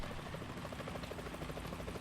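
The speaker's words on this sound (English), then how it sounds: "Is that a chopper I just heard?" A helicopter hovers in the Metal Gear Solid 2 video game, its rotor chopping in a rapid, steady pulse, faint and distant under a wash of noise with no talk.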